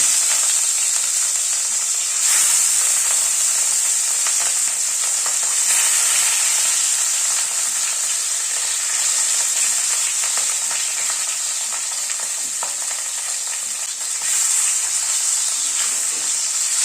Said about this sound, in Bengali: মাছগুলোকে ছেড়ে দিচ্ছি।